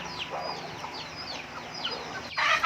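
Thailand dragon and asil chickens cluck in a free-range farm yard, several short calls rising and falling over a steady low outdoor hum, with a louder burst near the end.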